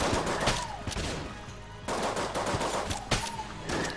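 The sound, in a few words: gun firing in the video game Enter the Gungeon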